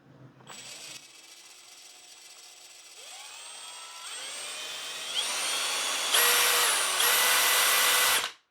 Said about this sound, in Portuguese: Níveis de velocidade no gatilho aqui na Makita, vou começar aqui com a velocidade 1.